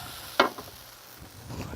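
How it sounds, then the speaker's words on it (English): Peas sauté in a pan with a faint, close sizzle, one sharp clink of a utensil near the start and a brief stir toward the end. "My peas are sauteing a little bit."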